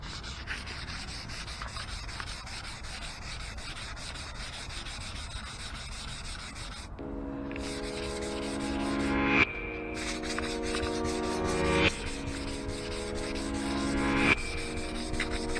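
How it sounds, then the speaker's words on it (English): Steady hand sanding of a car bumper with 600 and 800 grit sandpaper, a continuous close rubbing rasp with rhythmic strokes, plus brief tonal squeaks partway through. "I'll go ahead and sand that with 600 grit and then 800 grit"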